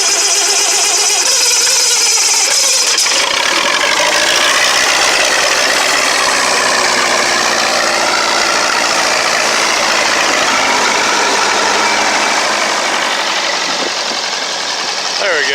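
A 1971 Lincoln SA200 welding machine's engine running on a truck bed, a loud, close, steady rumble that holds throughout, with talk likely mixed in.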